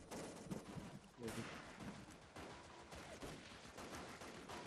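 Bursts of gunfire in the online shooter Wolfteam, sharp rapid shots at moderate loudness mixed with game noise and brief voices.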